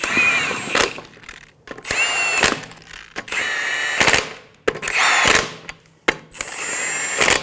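Power tool snugging down the wheel lug nuts on a 2003-2008 Honda Pilot during a front brake job: repeated loud bursts of whirring and rattling impact, about six short runs separated by pauses.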